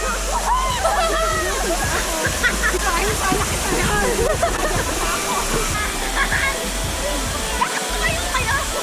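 The Maribina waterfall in Bicol pours and splashes in a loud, continuous rushing wash of water, with excited voices talking and calling out over it.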